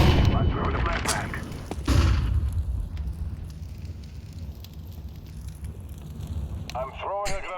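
Flashbang and grenade explosions in a video game, heavy booms and thumps followed by a long ringing rumble that fades, with a voice speaking briefly near the end.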